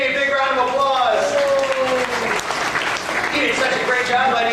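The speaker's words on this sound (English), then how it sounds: "Let's give Jamie a big round of applause." Audience applause for a volunteer named Jamie at a Catastrophe Canyon physical-effects demonstration on a studio backlot tour, a steady wash of crowd clapping with an announcer's voice running over it throughout.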